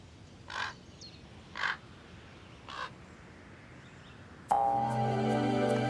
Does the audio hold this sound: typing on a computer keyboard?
no